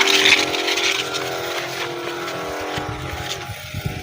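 A 12-volt electric water pump set up for car washing, drawing water stored in a drum, runs with a steady motorized hum and whine, close and continuous, with faint handling noises over it.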